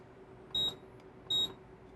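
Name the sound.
kitchen beeping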